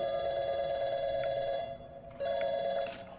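A telephone rings in the video game Portal 2, a steady electronic bell tone held for about a second and a half, breaking off briefly, then sounding again, loud and close with no talking over it.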